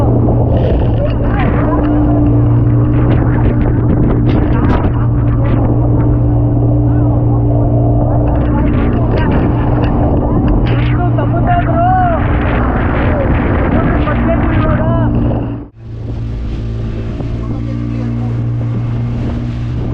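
Boat ride on the sea off Goa, a steady low engine drone with water rush running throughout, briefly dipping near the end, with people talking over it.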